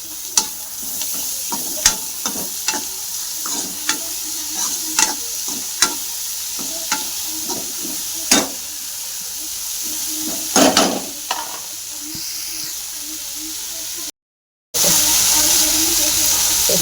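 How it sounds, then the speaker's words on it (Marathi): Washed moth beans are stir-fried in a hot pan, giving a continuous close sizzle broken by regular spoon taps against the pan about once a second, then a louder burst of hissing near the end. "मटकी मी धुवून घेतली होती दोन पाण्याने ती टाकून घेते"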